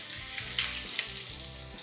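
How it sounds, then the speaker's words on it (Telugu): Sliced garlic and finely chopped green chilies sizzle and crackle in hot oil for fried rice, a steady, close frying hiss with the occasional soft stir and pop. "సన్నగా తరిగి పెట్టుకున్న పచ్చిమిర్చి, ఆయిల్లో కాస్త వేగాలి."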